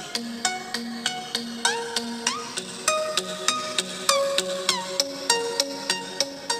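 A Realme X3 smartphone speaker plays a bright, rhythmic tune of plucked or ticking tones at a steady pulse, continuous and clear with no talking.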